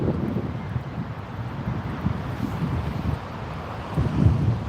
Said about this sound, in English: And that's just the sustained wind,